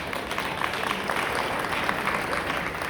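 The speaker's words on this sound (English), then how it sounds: "And one more time, let's have a big round of applause for Perry." Audience applause from a crowd at a lobbying rally in Albany, New York, a dense steady wash of many hands clapping close and loud, alone without speech.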